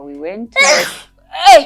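Someone speaks briefly, then a short burst of breathy noise, a pause, and a sharp exclamation-like sneeze at the end.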